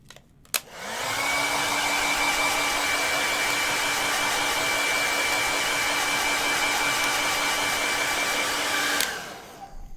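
A hair dryer drying a painting of a dolphin: a click, then a steady close, loud whirring blow with a constant pitch for about eight seconds before it shuts off.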